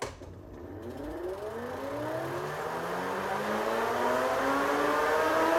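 A custom Biketrix e-bike hub motor spins up under test, its electric whine rising steadily in pitch over several seconds, close and fairly loud with no talk.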